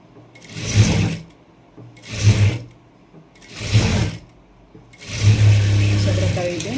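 Domestic sewing machine stitching a blouse sleeve onto the bodice at a half-inch seam allowance while making a princess-style blouse, running in four separate bursts of steady whirring, near and fairly loud, the last burst longest.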